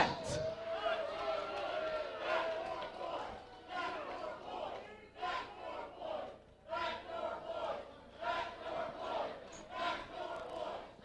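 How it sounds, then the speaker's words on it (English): A wrestling crowd at an NWA Wildside tag team match jeers and shouts steadily throughout, a loud roar of voices with rising and falling waves, as wrestlers talk over the noise. "Crowd not very respectful of the Backseat Boys."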